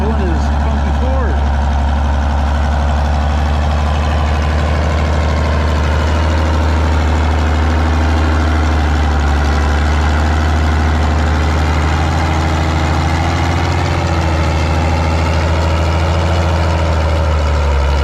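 A Ford tractor's heavy engine idles steadily at a tractor pull with a deep low rumble throughout, a continuous loud drone with faint background voices.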